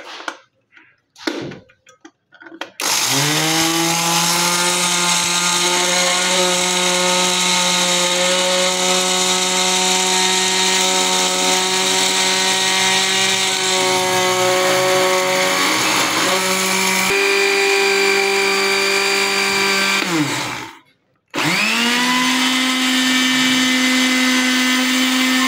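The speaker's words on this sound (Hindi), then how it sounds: "इसको हम ग्राइंड करेंगे।" Electric spice grinder whirring through pakora masala spices, a loud steady motor whine running in long bursts with a brief stop before restarting, no talk.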